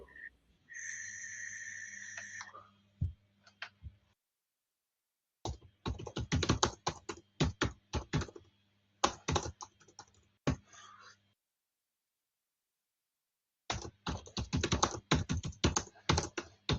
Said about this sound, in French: On entend quelqu'un qui tape sur son clavier.